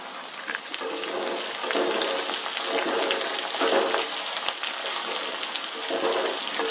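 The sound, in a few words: onions frying in a pan for sundakai vathal kuzhambu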